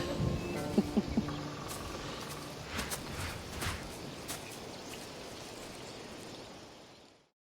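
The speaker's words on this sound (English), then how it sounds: "Storm is coming in." Steady rain hissing during a storm in the video game Assassin's Creed Odyssey, with a few faint patters early on, a soft continuous wash that fades out at the end.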